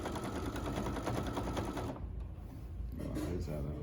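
A sewing machine runs in a steady fast whirring chatter, edge stitching fabric for an upcycled skirt, pausing briefly near the end before starting again.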